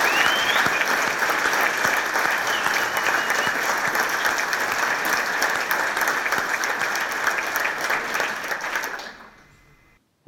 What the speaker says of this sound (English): one more big round of applause for AFSOC's Outstanding Airman of the Year